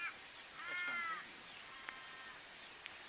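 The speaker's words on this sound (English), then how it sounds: "You can hear the crows calling." Crows call faintly at a bush camp on a small sand dune about 30 km south of Lake Frome, South Australia. One or two drawn-out caws carry through quiet open air, and a person speaks briefly.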